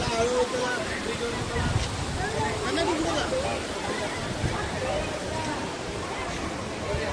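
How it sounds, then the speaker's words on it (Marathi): Heavy water rushes over a waterfall beside a temple in a valley, a steady broadband roar that holds its level from start to finish, with a voice talking faintly over it. "हा एक झरा आहे, हा पण धबधबा आहे"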